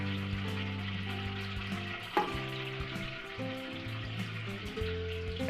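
Pork for apritada and menudo frying in oil, cooking side by side, with a steady close sizzle, a brief stirring clatter midway, and background music underneath.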